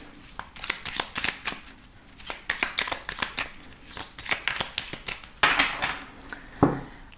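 Tarot cards being shuffled and cut by hand, repeated crisp riffling flutters and slaps in uneven bursts close up, with a sharper cut near the end.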